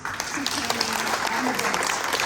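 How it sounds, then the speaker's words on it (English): Audience applause at an art exhibition opening, a steady dense wash of clapping filling the room, with a voice briefly heard over it. "please give a round of applause"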